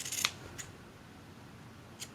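A few crisp scissor snips trim a ribbon bow for gift packaging, one sharp cut near the start and a softer one later, close and quiet.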